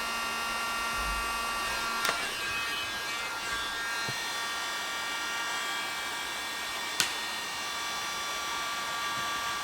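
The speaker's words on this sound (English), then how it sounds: "Run it through the welder." A hot-air welder running along a synthetic teak panel seam gives a steady, continuous blowing whine, with a couple of brief sharp clicks partway through.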